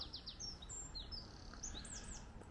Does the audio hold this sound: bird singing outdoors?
yes